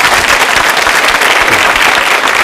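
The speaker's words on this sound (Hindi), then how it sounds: "तालियां बजाओ" Audience at a quiz show for a women's polytechnic anniversary applauding, a dense, loud burst of clapping that fills the whole short stretch without pause.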